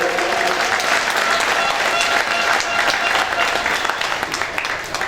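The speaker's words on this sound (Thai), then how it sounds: "ขอเสียงปรบมือให้กับโค้ดภูเก็ตเอฟซีด้วยครับ" Crowd applauding the coach of Phuket FC at a warm-up match against Trang FC, a dense, loud, continuous wash of clapping with voices mixed in.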